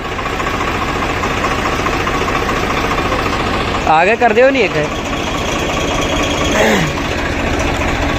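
An 855 tractor engine runs at a steady idle-like rumble during wheat sowing with a seed drill, loud and continuous, while people talk over it in the foreground.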